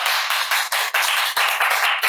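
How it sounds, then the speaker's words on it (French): An audience applauds a pair of guests on a podcast: dense, loud clapping in rolling bursts with brief dips between waves. "public, tonnerre d'applaudissements là"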